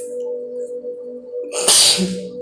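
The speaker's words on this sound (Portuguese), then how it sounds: "Todo mundo espirra." A single loud, sharp sneeze bursts out near the end, after a stretch of quiet background with a low steady hum.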